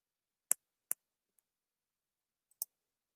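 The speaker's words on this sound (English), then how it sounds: "I'm going to open up my main menu and click on campaigns." Sharp computer mouse clicks, a few isolated taps spaced irregularly in a quiet room, close and crisp.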